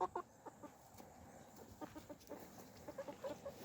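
Chickens clucking in a garden, a series of soft, close-by clucks and short calls in an irregular rhythm over quiet background.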